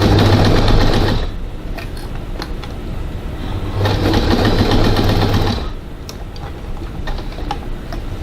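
A sewing machine stitches a crossbody bag in two loud, close bursts of rapid rhythmic clatter, separated by a quieter pause with only faint handling noise.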